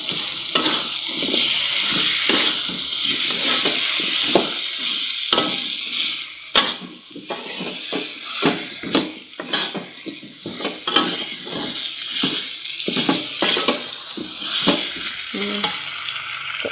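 Jackfruit is stirred in a sizzling pan for Minangkabau gulai cincang, with a spatula scraping in repeated, irregular strokes against the metal over a steady frying hiss.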